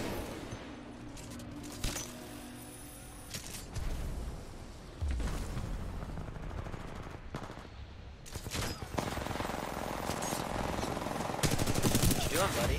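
Gunfire in the video game Titanfall 2, with bursts of rapid automatic shots and single cracks spread across the stretch, loud and close at times, mixed with mechanical creaks and clanks and a rising din toward the end.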